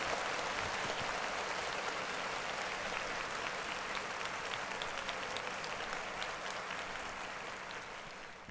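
An audience applauds for Big Sean in a continuous, even burst of clapping that stays strong before easing slightly toward the end.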